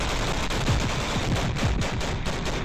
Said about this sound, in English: Just look at the havoc the Bradley wreaks with its cannon.